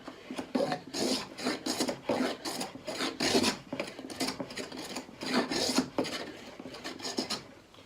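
An H.N.T. Gordon A55 smoothing hand plane shaving wood against the grain, close repeated rasping strokes in an uneven rhythm, each pass a short swishing scrape.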